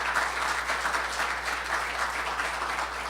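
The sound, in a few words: audience applause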